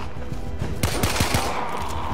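Rapid bursts of gunfire from the Warframe video game, a quick cluster of sharp, loud shots crowding together in close succession over a dense, noisy background.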